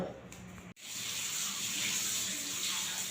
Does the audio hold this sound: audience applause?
no